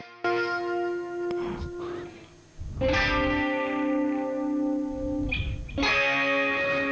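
Clean electric guitar arpeggio with slight saturation, sustained ringing chords with echo-like effects, played alone and close.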